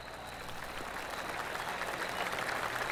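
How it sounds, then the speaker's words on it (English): Golf crowd applause at a Tour Championship in the video game PGA Tour 2K25 on PS5, a soft, steady patter of distant clapping that swells slightly over a few seconds, with no talking. "Oh, I can hear the golf claps around the course."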